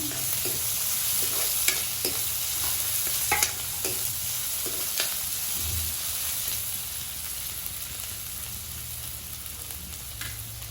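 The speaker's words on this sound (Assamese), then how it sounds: "দি পেলাই আমি অলপ ভাজি ল'ম।" Dry chillies, kalonji and ajwain fry in hot oil, giving a steady close sizzle with occasional stirring clicks and scrapes throughout, no talking.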